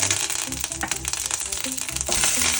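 Mustard seeds splutter in hot oil as chilies and curry leaves fry, for a South Indian spinach and coconut dish; a dense, continuous crackling sizzle runs throughout.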